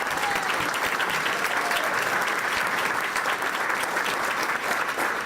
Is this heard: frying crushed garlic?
no